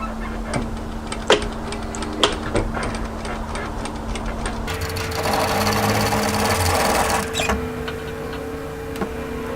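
A sewing machine stitches along the edge of a resort kimono kaftan, starting with sharp separate clicks and a steady hum, then running continuously in a denser, louder whir for a few seconds while back tacking to secure the seam before easing off.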